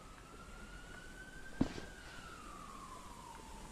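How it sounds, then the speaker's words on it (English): A faint wailing police siren in a video game drifts slowly up and down in pitch, distant and thin, with a single soft thump partway through. "I can hear, like, police sirens."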